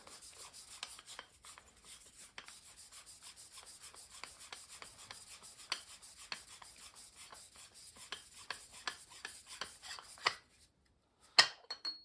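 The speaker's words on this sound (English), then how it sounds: "So this all unscrews." The air cylinder of an AEA HP Max .30 airgun is unscrewed by hand. Soft, close scraping comes in rapid repeated ticks, then turns into sharper clicks near the end after a brief pause.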